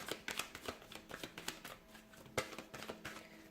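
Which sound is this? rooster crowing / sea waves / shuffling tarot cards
shuffling tarot cards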